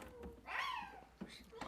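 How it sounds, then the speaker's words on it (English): A cat meows once in a drawn-out, rising-then-falling call, close and fairly clear, with soft household voices and room noise around it. "Can you meow too?"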